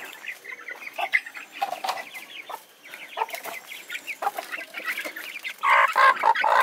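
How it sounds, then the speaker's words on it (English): Chickens cluck and squawk in a busy, agitated chorus on a Philippine home farm near Baguio, with dense overlapping calls throughout and a louder burst of clucking close by near the end. "Look at the chickens going crazy."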